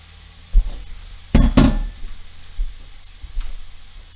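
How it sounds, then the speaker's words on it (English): Pork dropped onto onions in a hot pan, with a quiet background hiss and two loud bursts of sizzle in quick succession as the meat lands, then lower crackling and stirring. "I'm just going to put the pork right on top of the onions"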